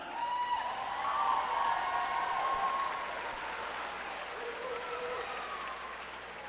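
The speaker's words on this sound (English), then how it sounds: "You got your diploma, clap, clap, clap" An audience at a high school commencement ceremony applauds graduates receiving diplomas. The clapping is loud and dense, mixed with a few cheers and shouted voices, and eases slightly toward the end.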